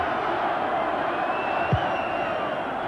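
A packed football stadium of England supporters keeps up a steady, dense roar of cheering during a match, filling the whole moment with a broad wash of crowd noise.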